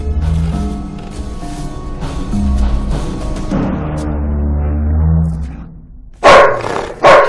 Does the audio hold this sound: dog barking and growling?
yes